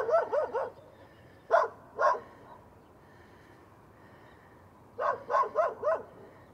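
A dog barks in short bursts outdoors on a springtime walk in Lungern, Switzerland: a rapid cluster of four yaps, two single barks, then another quick run of four, fairly close over quiet background.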